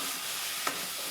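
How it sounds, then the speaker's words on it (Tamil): Okra and onions being sautéed in a pan: a steady close frying sizzle with soft stirring scrapes and a couple of brief clinks, no voices. "ஸோ வெண்டிக்காவும் இந்த வெங்காயம் எல்லாம் ஒன்றாவே வணங்கிடும்"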